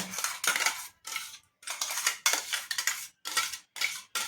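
Metal utensils clink and scrape against a kitchen vessel as a ground oats and raw rice mixture is emptied into it, in a string of sharp, close clattering bursts separated by brief pauses.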